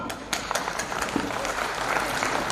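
Audience applause at a Hyderabadi comedy golden jubilee stage show, a steady dense patter of many hands clapping with some crowd murmur, sustained at even loudness throughout.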